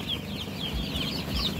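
Chickens clucking softly amid a dense, noisy farmyard background, with low thumps and continuous rustling throughout.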